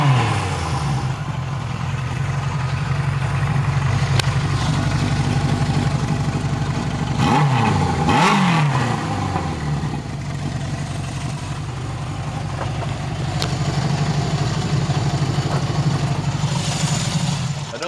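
A tuned 1975 Honda CB750F Super Sport four-cylinder motorcycle idles loudly and close, with a couple of quick throttle blips in the middle that rise and fall in pitch before settling back to a steady idle.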